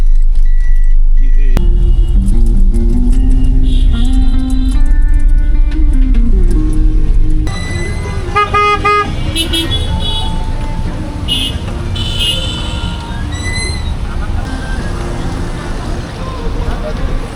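Busy road traffic in Abdullahpur near the congested rail gate, heard from inside a car: a steady engine drone, then a louder, denser street wash with auto-rickshaws, several short honks and bright tones, with voices talking over it.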